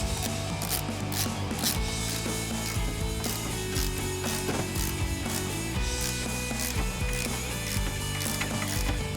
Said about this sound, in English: going through the stock holes on your beam, thread the Allen heads in the rest of the way.